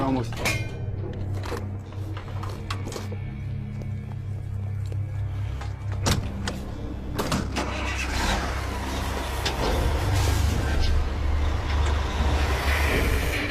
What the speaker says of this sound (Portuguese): este caminhão e muitos outros veículos movidos a diesel poderão estar na estrada